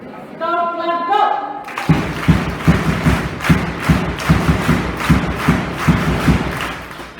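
Audience in a school or college hall claps in unison on cue, a loud run of regular synchronized thuds repeating about twice per second after a brief burst of voices.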